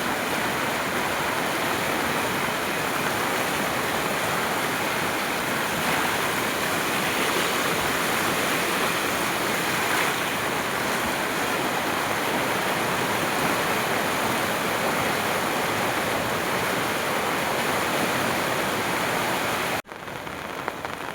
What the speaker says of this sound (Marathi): बघा मित्रांनो, नदी कशी फुल भरून वाहते.